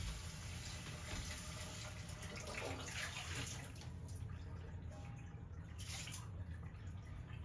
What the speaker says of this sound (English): I'm gonna rinse these because you should be rinsing all of your grains and legumes.